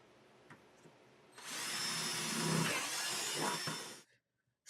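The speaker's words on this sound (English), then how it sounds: "We're using a 1/2 inch drill bit." A power drill with a 1/2 inch bit bores through a plastic bucket, a loud whirring grind lasting about three seconds after a quiet lead-in, then cutting off abruptly.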